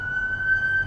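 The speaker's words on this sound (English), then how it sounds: "An ambulance driving by." Ambulance siren passing by, a steady high wailing tone heard for under a second over low traffic rumble.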